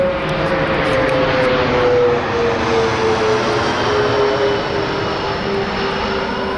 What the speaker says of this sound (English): Plane coming, so I'm going to distract you.